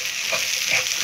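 Mexican rice with oregano stirred in a hot pan gives a brief, steady close-up sizzle with soft scraping stir sounds.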